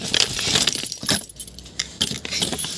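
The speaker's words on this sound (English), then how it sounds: "I got the car keys with me." Car keys jangle and clink repeatedly close by, in busy bursts for about three seconds, with no talking.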